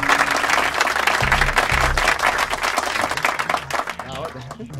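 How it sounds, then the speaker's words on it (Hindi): A crowd at a village kushti wrestling event in India claps steadily, a busy patter of applause heard under a loud announcer's voice and a low booming backdrop. "ताली।"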